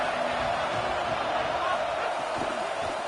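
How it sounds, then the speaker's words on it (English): Dense, steady roar of a large college football stadium crowd, a continuous wall of distant cheering and chatter with no single voice standing out. "This crowd bringing the energy and noise early."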